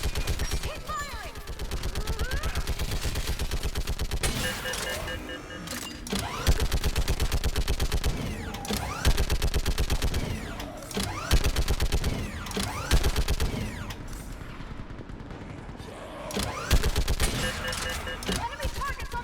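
Sustained battle gunfire in the sci-fi game Mass Effect 3, rapid automatic bursts and heavy shots rattling almost continuously for nearly twenty seconds, with brief lulls, loud and close, shouted voices mixed in.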